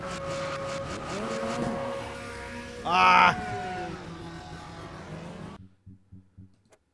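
Race car engines in the Automobilista 2 sim racing game whine and climb through the gears at the start of a short race, with a loud burst of roaring and tire noise midway before the sound cuts out.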